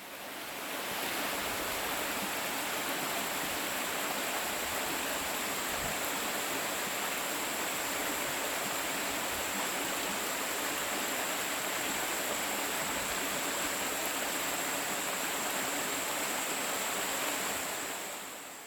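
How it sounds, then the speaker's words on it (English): Pristine creek water runs and pours down steadily with a close, dense rushing wash that holds evenly for the whole stretch, with no voices. "I always love to wash my hair in the pristine creek water with it beating down on my scalp"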